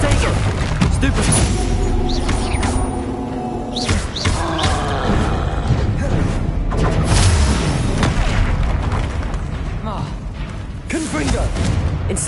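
Booming Confringo blasting-spell explosions from the Hogwarts Legacy video game burst repeatedly through a dense, loud battle din of thuds and crashes, with voices mixed in.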